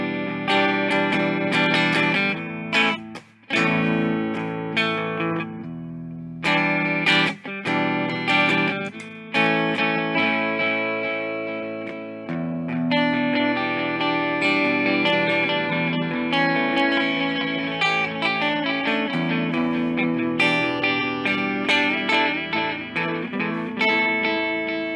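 Electric guitar played through an Electro-Harmonix Canyon delay pedal with drive engaged, loud distorted chords and notes ringing with repeating echo tails, a few brief pauses, steady throughout with no talking.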